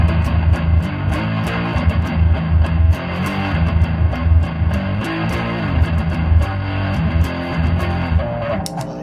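Electric guitar plays a heavy, rhythmic chugging riff through a distortion pedal boosted by an Anderton frequency booster, thick and loud with a steady pulse, alone without talking.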